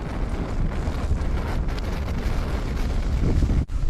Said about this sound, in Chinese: 外面实在太大风了，这个窗子被我关上了，但是车子还在不停的晃动。